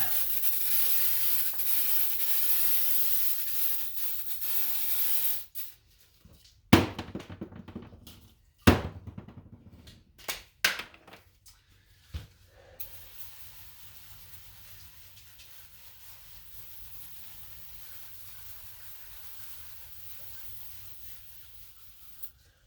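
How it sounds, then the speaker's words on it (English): A loud, steady hissing spray washes transmission fluid off a truck's steering parts, running for several seconds, then breaking into short bursts before fading to quiet background hum. "spray off all that"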